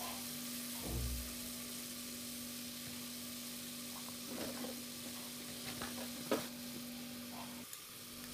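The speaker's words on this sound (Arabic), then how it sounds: "نحط شويه الزيت النباتي يسخن شويه، ثم نضيف بصله مفرومه، نقليو البصل شويه برك" Minced onion fries in vegetable oil in a pot, a continuous soft sizzle with occasional stirring scrapes and a light clink, heard over a steady low electrical hum.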